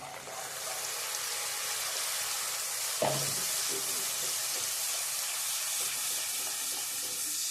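Tomato puree poured into a hot pan for Dhoraji-style bhungla batata, giving a steady, close frying sizzle throughout with a brief splash-like burst partway in.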